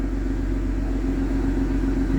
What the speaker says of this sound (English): a shot at the exhaust with the motor running